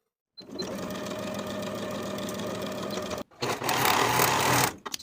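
A sewing machine runs steadily, finishing the raw edges of a dress sleeve with a 3/8 inch seam allowance, one long close burst, a brief pause, then a second louder run.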